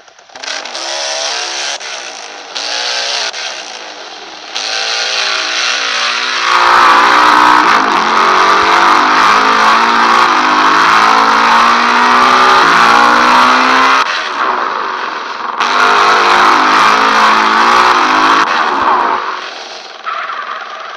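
A car engine in GTA San Andreas on Android revs and roars continuously through a modded exhaust, rising and falling in pitch as it accelerates and shifts, loud and close with no talking.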